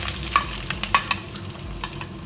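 Chopped ginger, green chillies and a small sliced onion frying in hot oil for a sardine curry, a steady soft sizzle with a few sharp clicks of a spoon against the pan.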